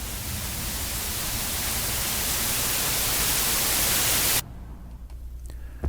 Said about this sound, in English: we should get a bit of white noise on the screen